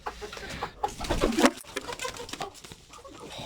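A Sussex rooster clucks and makes short throaty calls, fairly close, with a brief louder burst midway among scattered farmyard noise.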